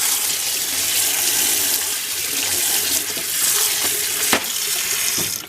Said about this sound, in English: And now I am going to immerse them in hot water.